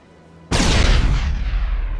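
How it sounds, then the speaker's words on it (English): A grenade detonates in the Mass Effect game, a sudden loud boom that cracks in after a quiet stretch and leaves a long rumbling, hissing decay. "I've just thrown a grenade down on the floor"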